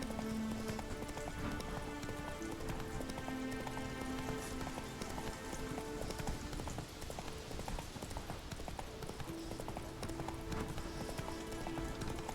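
Hooves of Roach, the horse in The Witcher 3, clip-clopping at a steady gallop throughout, set within game music and ambience, with no speech.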